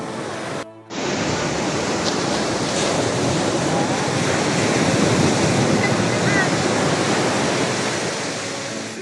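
Sea surf at a beach resort in La Union washes in a dense, continuous roar of breaking waves, loud and close, mixed with wind buffeting after a brief dropout at the start.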